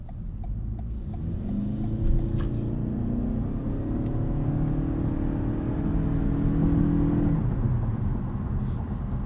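A 2022 Toyota Camry Hybrid XSE's 2.5 liter engine on the move, a steady low drone with a slowly rising tone heard from inside the quiet cabin, continuous and unbroken with no talking.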